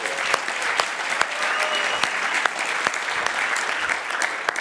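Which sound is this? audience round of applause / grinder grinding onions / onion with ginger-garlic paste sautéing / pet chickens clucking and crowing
audience round of applause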